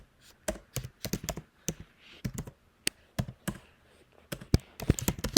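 Fingers typing on a computer keyboard at close range, with fast irregular bursts of sharp key clicks separated by brief pauses. No one speaks.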